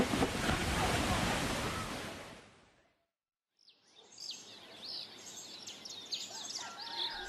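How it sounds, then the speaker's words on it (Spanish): Huge tsunami waves surging along a coastline in 2004, a loud broad roar of churning water and wind that fades to silence, then gives way to quieter outdoor ambience with birds calling. "Pero las enormes olas siguieron arrasando todo el litoral"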